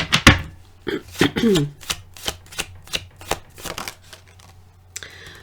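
Tarot cards handled and laid down one by one, a series of crisp slaps and soft shuffling flicks in a steady, uneven rhythm, close and fairly loud, with no talk.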